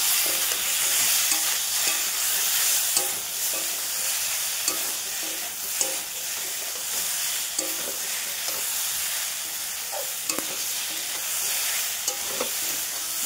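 Turmeric and chili powder are stirred in a sizzling pan: a continuous hiss of frying, broken by repeated spatula scrapes and light taps, close and with no speech.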